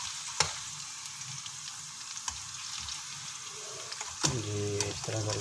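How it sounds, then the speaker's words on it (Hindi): Okra pieces frying in ghee give a steady close sizzle, with a few sharp utensil clicks and a scraping, bubbling stretch near the end; no one speaks. "ये हमारी भिंडियाँ फ्राई हो गई हैं इसके अंदर।"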